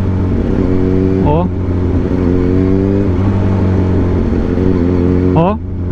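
A supercharged Kawasaki Z H2 motorcycle with a loose chain is ridden with jerky throttle, the close, loud engine hum broken by two sharp rising revs early and late, and a rider briefly exclaims.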